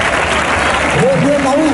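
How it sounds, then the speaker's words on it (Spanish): A crowd applauds steadily in a big open space while an excited voice talks loudly over the clapping. "Ese quiebro de David Ferrer, fuerte aplauso para él."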